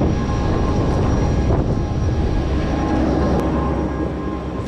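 Loud, steady engine roar and broadband rumble at a small old airport while walking up an old boarding ramp, continuous and close with no talking.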